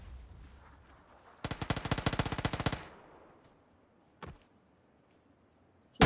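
Automatic gunfire from the video game Squad: a loud, rapid burst of about a dozen shots lasting over a second, followed by a single distant shot and a sharp crack at the very end.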